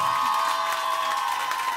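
Concert audience applauding and cheering at the end of a live show in Bordeaux, a steady dense wash of clapping and crowd noise held at an even level throughout.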